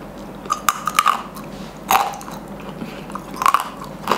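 Close crunchy bites into a crispy honey-coated vegetable snack, sharp crackling snaps at irregular intervals with chewing between them, no talking.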